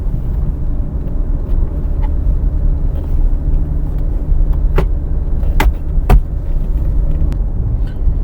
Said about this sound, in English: that wastegate rattle, I wish they just tuned it out from factory